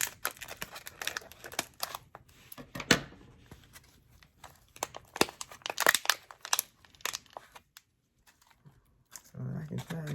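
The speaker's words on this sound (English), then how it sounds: "I'm going to cut the size of my container." A plastic plant container is cut down to size to free a Beehive Ginger without harming its roots, heard as irregular close crinkling, crunching snips and rustles with quiet gaps.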